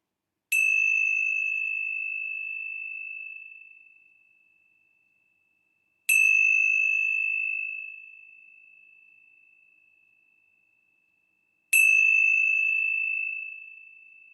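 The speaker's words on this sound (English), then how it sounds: "let's begin our time together with the ringing of the bells." Three clear bell strikes, each ringing out and slowly fading over several seconds, evenly spaced in otherwise complete silence.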